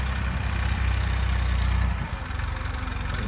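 Tractor arriving in a farm field, its engine rumbling loud and close with a low idling throb that shifts to a chugging beat partway through.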